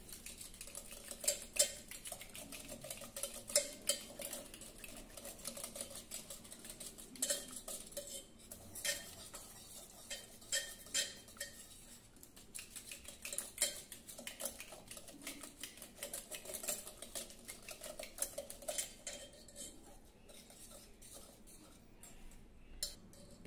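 Cooked, softened mixed dal is mashed and churned in a pot, producing a steady, faint stream of rapid clacking, tapping and scraping against the metal that continues without pause.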